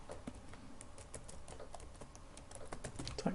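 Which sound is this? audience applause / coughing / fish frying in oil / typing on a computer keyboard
typing on a computer keyboard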